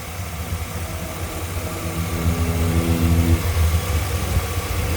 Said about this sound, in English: the video of the engine while it's running